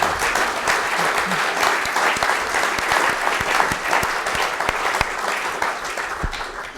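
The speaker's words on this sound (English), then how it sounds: "das muss unbedingt nochmal einen Applaus für Dieter, Marc und die Organisation" Sustained applause from an audience at a Porsche rally legends gathering with Michèle Mouton, dense steady clapping filling the room with a few louder individual claps standing out.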